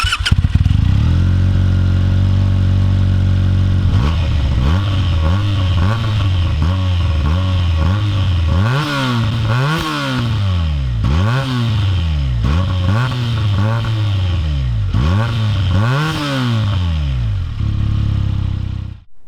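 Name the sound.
Benelli BN302 motorcycle engine running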